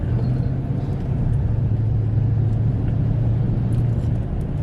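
A big truck moves along a narrow street in Ohio, a steady low engine rumble with a droning hum that stays constant and fairly close, with no talking.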